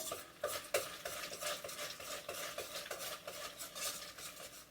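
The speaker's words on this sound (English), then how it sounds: "we're just gonna mix this in" Ingredients being stirred and mixed in a bowl at home, a close, continuous rhythmic scraping and swishing with regular strokes of a utensil against the bowl, no talking.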